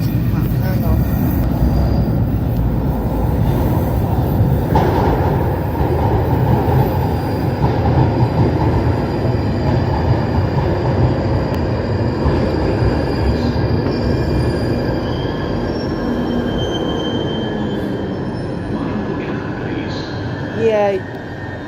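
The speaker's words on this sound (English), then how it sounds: "oh sorry, a train's in the front, hang on" A London Underground Northern Line train rumbles loudly into a narrow island platform, wheels squealing and screeching as it slows, with a voice speaking faintly beneath the roar.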